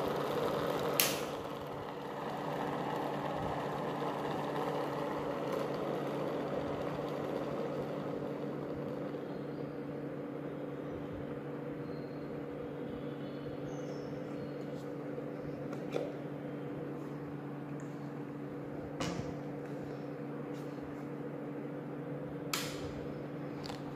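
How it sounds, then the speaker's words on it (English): An axial flux brushless DC motor running with a single rotor gives a steady, faint, low mechanical hum, with a few sharp clicks and creaks over about twenty-four seconds. "Here the motor is running with the single rotor."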